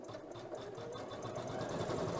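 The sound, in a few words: embroidery machine stitching out a motif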